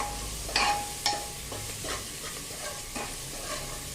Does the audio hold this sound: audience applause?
no